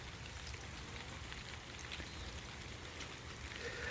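An evening rain shower falls outdoors, a soft, even hiss of drops with scattered faint patters, quiet and continuous with no voices.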